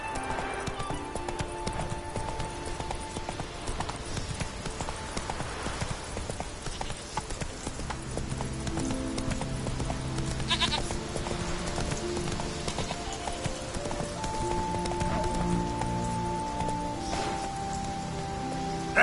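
Roach the horse in The Witcher 3 trotting, with a long, steady run of hoofbeats over rain-like game ambience and tonal music, close and continuous.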